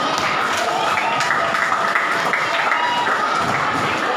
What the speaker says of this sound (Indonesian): Nah ini cakep nih, kasih tepuk tangan.